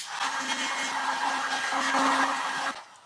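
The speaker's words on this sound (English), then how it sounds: "let's hit this with the heat gun" Steady, loud whoosh of a heat gun blowing hot air to dry black tape on a painting, running continuously for about two and a half seconds before cutting off abruptly near the end.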